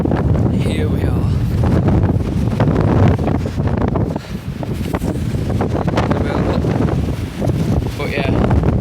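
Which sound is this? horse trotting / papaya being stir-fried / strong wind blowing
strong wind blowing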